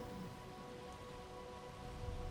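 Rain pouring in the video game Brothers: A Tale of Two Sons, a faint, steady wash of falling rain with low rumbling underneath, alone without voices.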